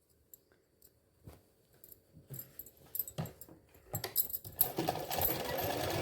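A sewing machine stitches a strip onto a pant hem, starting with faint scattered clicks and building into a steady, fairly quiet whir toward the end.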